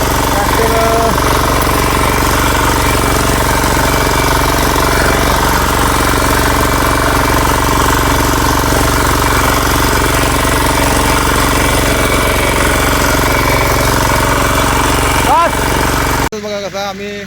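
A tractor engine drives a tiller through a wet paddy field, producing a loud, steady, rattling drone that runs unbroken for most of the clip before cutting off near the end.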